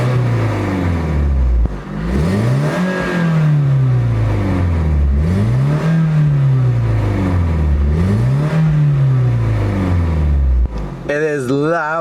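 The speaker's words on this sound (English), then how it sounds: "it is loud, it's sporty, it's aggressive, it's one of the better engine sounds I have ever heard in my life" A Nissan S15 Silvia engine with an aftermarket muffler revs three times, each rise sweeping up and dropping back in a deep, strong, loud pattern close by, with a brief voice at the end.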